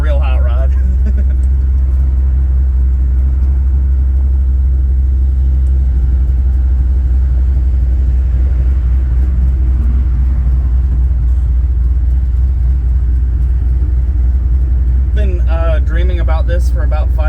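A 383 big block V8 in a Plymouth Barracuda idles with a deep, steady, loping rumble throughout, close and loud, with a voice speaking briefly near the start and end.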